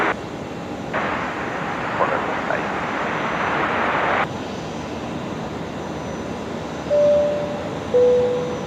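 A Boeing 777 at Brisbane Airport at night gives a steady, loud jet engine roar with a broad rushing swell that eases off partway through, while a few faint tonal whines come and go.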